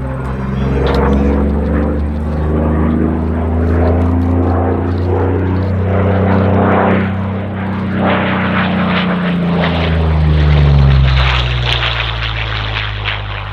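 A P-40 Warhawk propeller fighter plane drones loudly overhead at an air show, its engine note rising and shifting as it passes close by.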